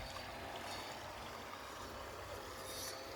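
Water running along a cemented channel near farm fields in Korea, a faint, steady rushing flow with a constant low hum, no voices.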